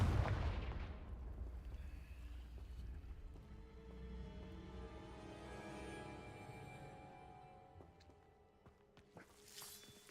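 A Confringo blasting spell cast in the Hogwarts Legacy video game, opening with a loud burst that decays into a long rumbling, fiery roar with rising tonal swells, fading near the end.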